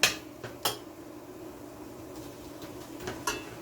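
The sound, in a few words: shrimp being added to a pot of Jamaican curry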